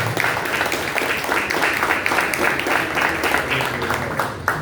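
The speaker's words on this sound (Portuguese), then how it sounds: "dando uma salva de palmas para o Senhor Jesus" Applause from a church congregation welcoming a pastor to the stage, steady broadband clapping that holds for the full stretch with a faint murmur of voices beneath it and a brief dip at the end.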